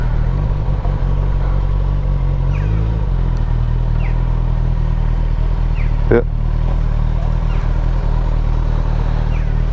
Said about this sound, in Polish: A my sobie motorkiem tu wpadniemy.